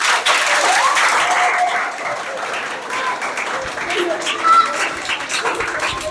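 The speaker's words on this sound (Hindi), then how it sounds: "जोरदार तालियां बजाओ।" A gathering applauds the winner of a weekly test as a prize is handed out, with loud, continuous clapping that eases slightly midway and voices talking over it.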